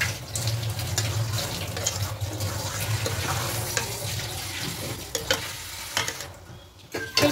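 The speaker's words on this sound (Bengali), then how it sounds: "এবার গুড় থেকে অনেকটাই রস বেরিয়ে যাবে, এভাবে একটু নেড়ে দেবো।" Melting jaggery for a ripe jujube plum pickle stirred with a spatula in a pan, a close bubbling sizzle with scraping strokes and a few sharp knocks toward the end.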